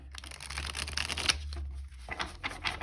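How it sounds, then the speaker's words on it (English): Tarot cards being shuffled by hand in a steady run of soft riffling and flicking, close and fairly quiet, with brief pauses between bursts and no talking. "I really shuffled your cards a lot."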